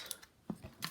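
Screws being backed out of an old Compaq keyboard's mechanism, a few short, close mechanical clicks and ratchet-like ticks spread across a second, with nobody talking.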